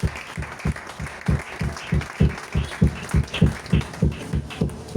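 Church audience clapping in a steady rhythmic beat at a worship service, with voices faint beneath, and no clear cheering.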